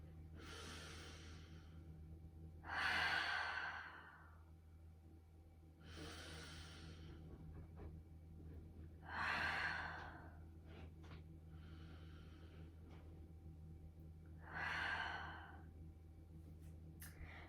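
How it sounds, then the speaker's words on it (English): Three deep, breathy exhalations roughly every six seconds during a Pilates shell stretch on a mat in a postnatal-friendly full-body session, close and clear over a low steady hum, with no talking. "We're going to take 3 nice deep breaths here."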